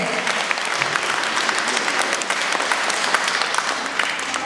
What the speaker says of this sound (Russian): Итак, аплодисменты.